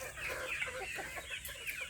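Native chickens clucking in a farm coop, a steady busy chorus of soft overlapping clucks and chatter at moderate distance, with no talking.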